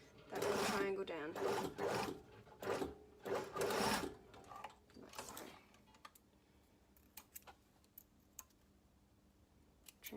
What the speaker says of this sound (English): stitch that little triangle down